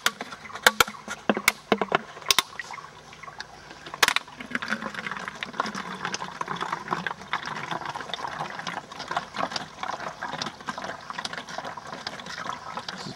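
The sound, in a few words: water pumped through MSR Miniworks EX microfilter into bottle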